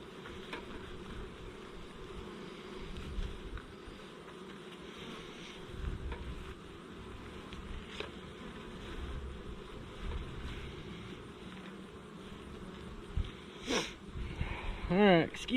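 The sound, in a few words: honey bees buzzing around hive frames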